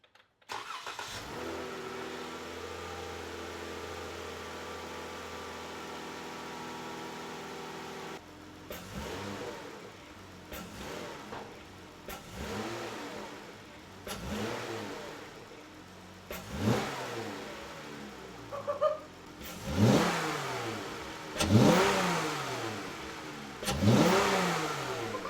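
A 2023 Dodge Challenger GT fitted with a K&N intake starts up and idles, then pulls away, with a series of rising revs and gear-change sweeps growing louder in bursts, heard close from inside with no talking.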